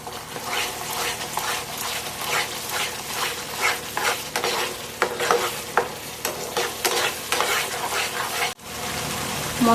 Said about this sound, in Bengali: এবার আমি মশলাটাকে ভালো করে কষে নেব।